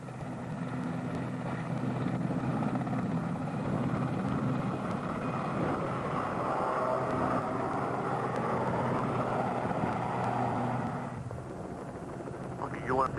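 A mountain rescue helicopter in the Cairngorms drones steadily in the distance, a continuous rotor and engine hum that fades toward the end, with people talking over it.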